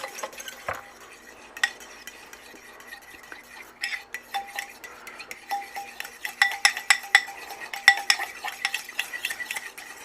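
A spoon stirs shrimp coated in granulated garlic in a pot or pan, giving a steady series of close scraping clinks that grow busier and louder toward the end, with no voices.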